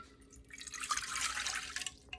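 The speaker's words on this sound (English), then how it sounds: "in a medium-sized bowl, you need to add 3/4 cup of cold water" Cold water poured into a medium-sized bowl for a marshmallow topping, a steady close trickling and splashing pour lasting about two seconds with no talk.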